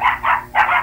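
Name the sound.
puppy barking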